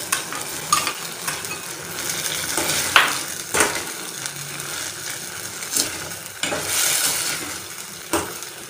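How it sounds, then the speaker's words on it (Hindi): Capsicum stir-fried in a pan on medium flame for chicken macaroni: a continuous sizzle broken by sharp scrapes and clacks of stirring, close and fairly loud, with no talk. "साथ ही मैं कैप्सिकम डाल रही हूँ इसमें।"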